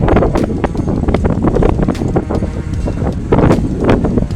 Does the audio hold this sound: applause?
no